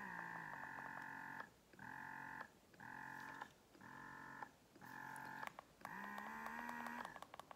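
A Pumpables Genie Advanced breast pump runs on its vacuum setting, its motor humming in about six evenly spaced rhythmic pulses before settling into a longer steady tone, close and quiet with no talk.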